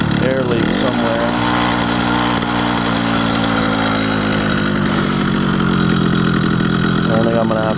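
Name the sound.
80cc motorized bicycle engine running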